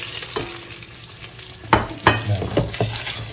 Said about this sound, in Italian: Mettiamo il riso e lo facciamo tostare in modo che ogni chicco sia ben unto dell'olio.